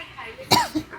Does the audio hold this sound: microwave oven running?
no